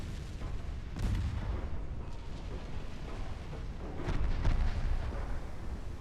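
Naval artillery fire and a flash-fire explosion in the warship game Ultimate Admiral Dreadnoughts: deep, rumbling booms roll on steadily, swelling into a heavier blast near the end.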